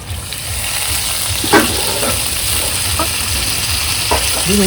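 Potatoes and meat frying for a Dashami feast meet added water, giving a loud, steady sizzle with a few sharp utensil knocks and scrapes, close up and without talk.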